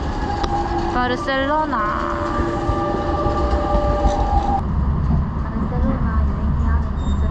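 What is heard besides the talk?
train arriving at the station from Montserrat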